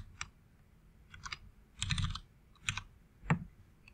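Typing on a computer keyboard in short bursts of quick clicking keystrokes separated by pauses, close and fairly quiet in a silent room.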